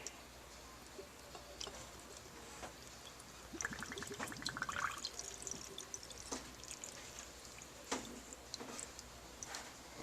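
Rust-cleaning liquid is poured into a glass jar while a rusty beer can is cleaned. A faint trickling pour swells in the middle of the clip, with scattered small clinks and drips around it.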